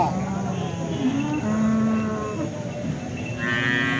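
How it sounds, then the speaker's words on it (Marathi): A cow at a cattle market in Alephata, India, lets out loud, drawn-out moos close by, with a busy market hum behind it and another animal's call near the end. "आपण पाहू शकता ही देखील शेतकरी दादांची गाई आहे."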